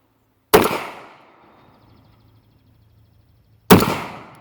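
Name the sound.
Rock Island 22 TCM pistol gunshots at the range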